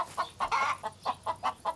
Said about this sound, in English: And there's so many chickens around.